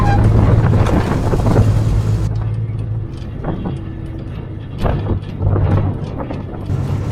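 A restored vintage truck with a cramped footwell, due for a new radiator, rumbles along on a drive, its low engine drone steady and close with irregular knocks and rattles over the road.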